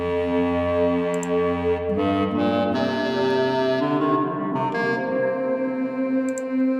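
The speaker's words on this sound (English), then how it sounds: "let's put this reverb in here" A sustained saxophone tone from the iFretless Sax app through an AudioKit reverb, drenched in lush reverb, notes blurring together in a long, washy echo tail.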